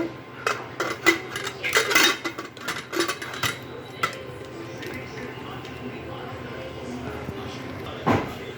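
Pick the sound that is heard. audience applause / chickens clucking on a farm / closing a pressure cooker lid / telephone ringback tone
closing a pressure cooker lid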